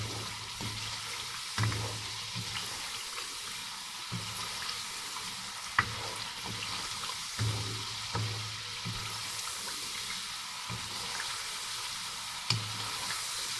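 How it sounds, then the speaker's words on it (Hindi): Kofta curry masala fries in oil in a pan, a close, steady sizzle with regular scraping stirs every second or two, no voices. "थोड़ा सा मज़ीद और भूनेंगे"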